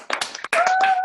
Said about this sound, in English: Can we give everybody a round of applause?